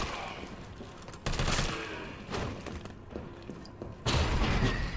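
Bursts of gunfire from Jill's gun in Resident Evil 3 Remake, several loud booming volleys separated by quieter gaps, close and punchy.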